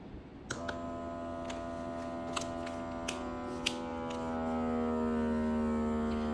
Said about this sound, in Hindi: मैंने यहाँ कुछ वेजिटेबल्स ली हैं जिसको हम वैक्यूम सील करेंगे